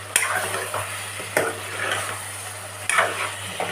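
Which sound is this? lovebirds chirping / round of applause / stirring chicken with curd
stirring chicken with curd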